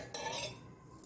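A pan sits on a gas stove, handled with a brief metallic clink and scrape of cookware as coconut oil is added, then a quiet ringing fade.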